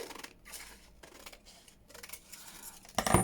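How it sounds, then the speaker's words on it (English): Scissors snip paper in a craft setting, trimming the top off a file folder with a few quiet, close crisp cuts and a louder rustle at the end; no one speaks. "to snip this top off with the scissors"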